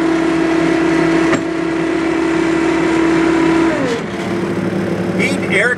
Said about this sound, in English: Bobcat T190 compact track loader. Turbo diesel, vertical lift boom.